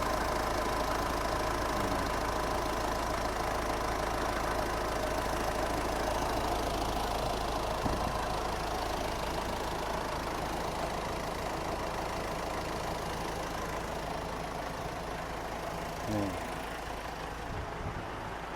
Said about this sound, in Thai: นี่คือเสียงเครื่องยนต์